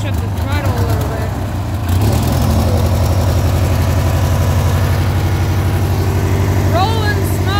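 A Cub Cadet lawn mower engine runs loud and close with a steady low drone, picking up slightly as the throttle is pushed, while a voice talks over it.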